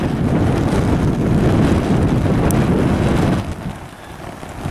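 Strong wind roars steadily across snowy, icy ground outdoors, a dense, close rushing noise that buffets the microphone, easing off slightly near the end.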